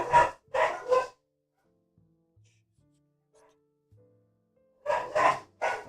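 Dogs barking nearby, a quick burst of three loud barks, then a near-silent gap with faint small noises, then another set of three barks at the end.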